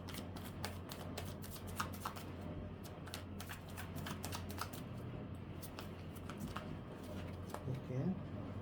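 Playing cards are gathered and shuffled close up during a card reading, making rapid crisp riffling flutters and light slaps, with a brief voice near the end.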